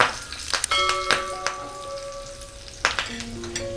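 Dry red chillies and curry leaves sizzle in hot tempering oil for a dahi phulki (boondi chaat) tempering, with a steady light crackle and a few sharp clicks and ringing metallic tones over it.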